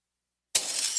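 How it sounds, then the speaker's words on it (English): In an advert, glass shatters loudly and abruptly after a moment of silence as thieves trash a house, the crash spraying into a bright, scattering tail. "That's the sound of a house being trashed while a gang of thieves ransack the"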